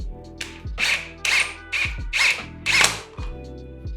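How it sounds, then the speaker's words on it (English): A cordless power drill drives fixing screws into a gate post to mount a gravity latch lock, giving about five short whirring bursts that rise and stop, each separated by brief pauses and clicks. "grab the rest of the fixing screws and attach the lock to the back of the gate post"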